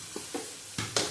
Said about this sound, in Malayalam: നാലും കൂടി ഒന്ന് മൂപ്പിച്ചെടുക്കുകയാണ്